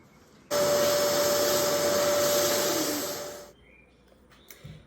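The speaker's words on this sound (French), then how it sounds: "maman va faire l'aspirateur, tu vas être contente." A vacuum cleaner switches on abruptly, roars steadily for about three seconds, then winds down, leaving a few faint knocks afterward.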